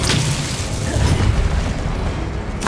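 Incendio fire spell cast in Hogwarts Legacy, a dense roaring whoosh of flame with low rumbling bursts that holds steady for nearly three seconds, loud and close.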